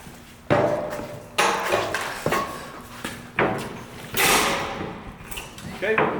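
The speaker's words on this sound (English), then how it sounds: "We can put our adze in there behind the frame of the door, and this will be a good way to finish this door off" A firefighter's adze pries at a door frame during forcible entry training, a series of heavy wooden thumps and cracks spaced roughly a second apart, with scraping and creaking between strikes and voices heard at times.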